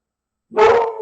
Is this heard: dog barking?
yes